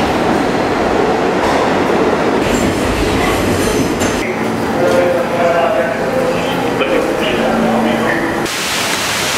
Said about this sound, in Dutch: ik zelf pak nu even de metro naar Chipotle